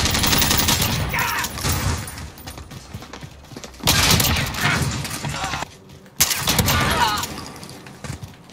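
R90 shotgun with dragon's breath rounds in Call of Duty Modern Warfare, repeated loud close blasts in bursts with brief gaps, harsh and crackling, a voice faintly underneath.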